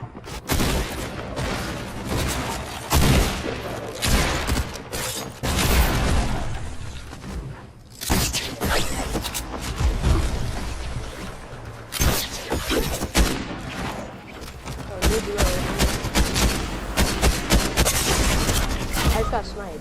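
Dense gunfire from a Fortnite match crackles throughout, rapid overlapping shots and booms in loud bursts with a short lull near the middle, forming a busy game battle soundscape.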